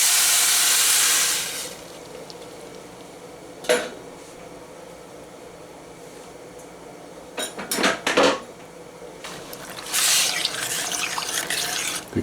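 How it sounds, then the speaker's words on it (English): Stock or water pours into a pot of red beans cooked with andouille sausage, as a hissing stream at the start, then a few clanks of cookware and a second gush of pouring near the end. "Now you put your stock or your water, just enough to cover it."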